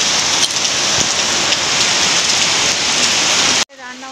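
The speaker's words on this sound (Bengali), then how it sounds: "প্রচণ্ড পরিমাণে বাইরে বৃষ্টি হচ্ছে। সারা দিন ধরে আজকে বৃষ্টি হচ্ছে, একদমই থামছে না বৃষ্টি" Heavy rain pours steadily outside, a dense, loud, continuous hiss of drops on surfaces that cuts off abruptly near the end.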